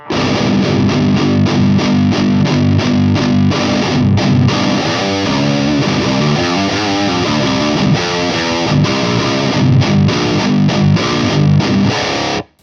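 A thick, slightly loose distorted metal guitar plays through a Fryette Deliverance amp, with dense chugging riffs and sustained chords, loud and continuous for about twelve seconds before cutting off.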